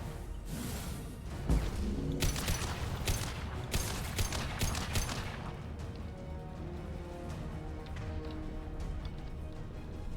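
Gunfire from a Mass Effect 2 firefight: dense bursts of shots and impact crashes in the opening half, fading into a lingering ambient hum with faint tonal game sounds, no voices.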